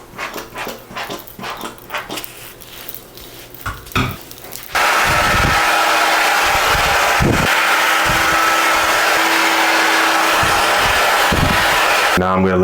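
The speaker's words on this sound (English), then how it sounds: "use a blow dryer to make sure it seeps into the scalp" A steady, loud blow dryer roars continuously after a few seconds of mixed rustling and voices, holding a constant broadband whoosh until the end.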